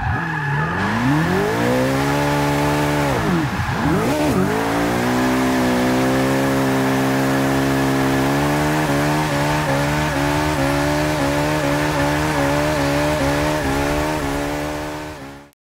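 A McLaren 650S Coupe does donuts, its engine revving loud and close in a sustained, rising and falling roar that holds for about fifteen seconds, with tires scrubbing underneath, before the sound cuts out abruptly.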